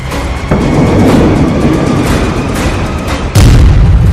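Israeli military strikes, with a loud continuous roaring blast rumble that swells sharply near the end, heavy low booming and no talking.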